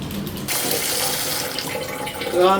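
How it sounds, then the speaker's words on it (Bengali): Tap water runs steadily into a sink while vegetables are washed beneath the stream, a close, continuous splashing rush with no talk. "ভালো করে ধুইবে ময়লা জানি না থাকে আচ্ছা জল ঠিক আছে"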